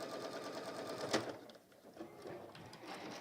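A Juki sewing machine stitches a mug carry in short, quiet bursts of soft mechanical whirring and ticking, with a sharper click partway through.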